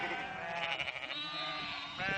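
Sheep bleat in a wavering, nasal call, followed by a second bleat near the end, close and fairly faint, with no talking.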